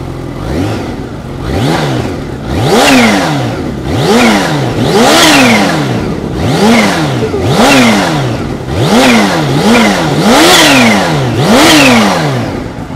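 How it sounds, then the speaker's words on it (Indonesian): A 2022 Kawasaki Ninja H2 supercharged motorcycle revs repeatedly up and down, about eight loud, close throttle blips in a steady rhythm, each rising then falling in pitch. "mesin ataupun suara knalpot dari sebuah Kawasaki Ninja H2"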